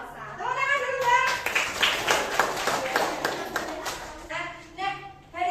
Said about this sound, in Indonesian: Tepuk tangan dulu, Bang.